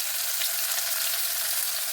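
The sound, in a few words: green garlic sautéing in a pan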